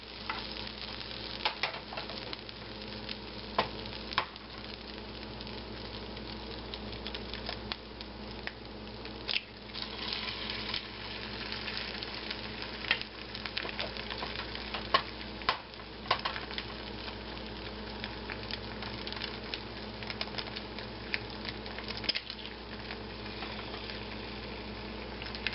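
Spam fries in a hot pan with a steady, close crackling sizzle, dense popping spatter continuing throughout without talk.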